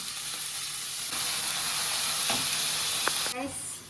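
Masala sizzles and hisses in hot oil in a pan for a chicken recipe. A steady frying crackle runs throughout, broken by a few clinks and scrapes of stirring, and it grows louder near the end.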